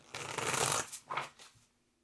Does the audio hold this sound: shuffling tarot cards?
yes